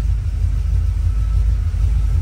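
A GM Performance crate 350 V8 idles steadily with a loud exhaust, giving a deep, continuous low rumble close by with no talking.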